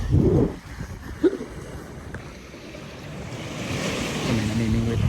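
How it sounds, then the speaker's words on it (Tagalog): Sea waves washing onto a shore at Bucana, a steady rolling surf with wind buffeting the microphone and a man's brief speech near the start. "Ito ang dagat."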